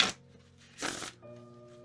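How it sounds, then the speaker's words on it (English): A deck of oracle cards is shuffled in two short, crisp riffling bursts separated by quieter handling, close and alone. "whenever you get them to shuffle, they shuffle like a dream"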